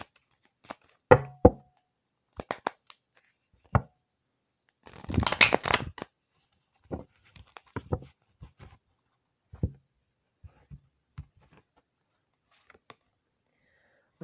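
Tarot cards shuffled and handled on a table: scattered soft taps and card slaps, with one dense riffling burst midway, close and quiet, no talking.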